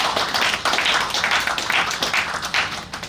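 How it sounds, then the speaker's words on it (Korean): Audience clapping at a commemorative event, a dense, steady patter of many hands that carries on for the whole stretch with no talk over it. "박수 한번 주십시오"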